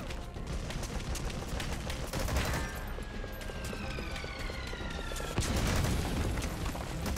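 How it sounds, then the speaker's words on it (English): Grenade explosions and gunfire in Metal Gear Solid V, with repeated gunshots crackling over dense battle noise, and deep booming blasts, one heavy explosion landing near the end. "Oh, they threw grenades at me also."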